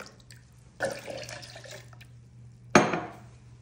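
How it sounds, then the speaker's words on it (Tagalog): Water poured from a glass into a batter mixture of eggs in a bowl, two short splashing pours about two seconds apart over a quiet kitchen background with a low hum. "At lagay ko siya ng 2 glass of water"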